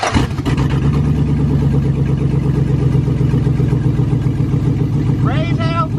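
An LS-swapped 1979 Ford F100 engine with a vacuum leak idles loudly and steadily up close, a rough, throbbing drone that holds without a break; a short voice-like sound rises near the end.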